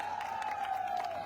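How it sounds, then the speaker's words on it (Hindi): Crowd applause with some cheering at a women's awareness conference in Gorakhpur, steady and fairly loud throughout, a dense wash of clapping from many people. "हमारे बड़े भाई आदरणीय अरविंद राजभर जी का, इनका जोरदार तालियों से स्वागत किया जाए"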